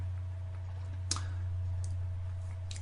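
A single sharp computer mouse click sounds once, close and clear, over a steady low electrical hum, while creating a business fan page on Facebook; a couple of fainter ticks follow.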